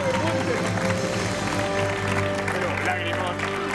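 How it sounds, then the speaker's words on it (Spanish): Television studio audience applauding after a comedy-show singing performance, continuous clapping and crowd noise mixed under music and voices, fairly loud throughout. "¡Fuerte aplauso!"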